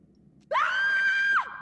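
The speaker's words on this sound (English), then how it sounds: "What's up with the screaming?" A woman's scream in the horror game The Devil in Me, a single sharp, sustained high-pitched cry close by, rising quickly, holding steady and dropping off after about a second, with no talk over it.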